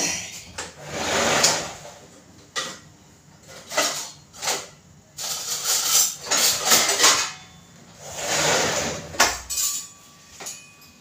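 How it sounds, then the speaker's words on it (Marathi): A spoon stirring sugar syrup in a pot for gulab jamun, irregular scraping and clinking of metal against the pot in uneven bursts, close and fairly loud with short pauses between strokes. "आता आपल्याला चांगलं असं ढवळून घ्यायचंय।"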